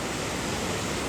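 Waterfall on a Nepali trek between Hetauda, Kapuche and Kori, a steady, close, full rushing roar of falling water with no voices.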